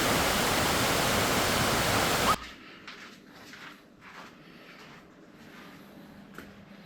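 Water rushes steadily from a valley stream and an artificial waterfall beside a hotel bar terrace at a Hokkaido ryokan, loud and broadband at first, then dropping to a softer distant flow with faint knocks.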